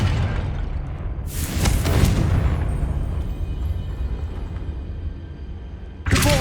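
Confringo blasting spell explosion in Hogwarts Legacy, a loud booming blast with a rumbling tail that fades out, and a second burst starting right at the end.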